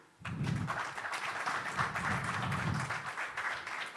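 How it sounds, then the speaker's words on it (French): Warm audience applause greeting a speaker at a business talk event, a dense burst of many hands clapping that starts suddenly, holds steady and loud for several seconds, then begins to thin out, with no speech over it. "Merci d'applaudir et d'accueillir chaleureusement une fois de plus Moussadek Bali"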